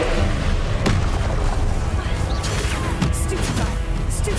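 Spells hit enemies in Hogwarts Legacy combat, a dense run of loud booms, thuds and crashing impacts over continuous game noise.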